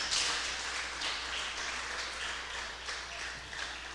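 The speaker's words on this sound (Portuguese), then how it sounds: "Você pode aplaudir ao Senhor por isso?" A church congregation applauds during a sermon, a steady, dense wash of clapping that holds evenly across the whole stretch with no talk over it.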